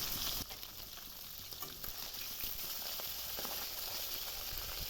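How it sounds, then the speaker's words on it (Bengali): Leaves fry in hot white oil in a karahi over a gas flame, a loud continuous crackling sizzle with faint stirring and turning sounds throughout, no voices. "পাতাগুলো এখন উল্টে পাল্টে ভেজে নেব।"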